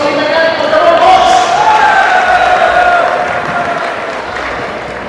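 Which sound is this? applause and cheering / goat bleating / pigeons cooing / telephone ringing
applause and cheering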